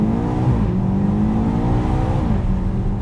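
A BMW X5 M Competition accelerates hard, its engine note rising steadily and loud and close with a continuous rumbling drone, briefly dipping near the end before climbing again, with no talk.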